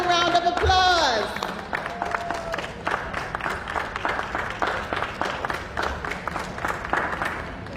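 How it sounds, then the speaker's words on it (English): At a Nurse of the Year announcement, a short voice or tone opens, then an audience claps in moderately loud, uneven bursts with individual claps audible, continuing steadily to the end. "Let's give them another round of applause."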